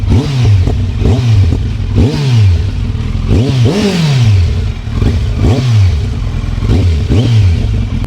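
A Kawasaki sport motorcycle exhaust revs repeatedly, each deep, bassy throttle blip rising and falling in a regular rhythm, loud and close, with a burbling idle between.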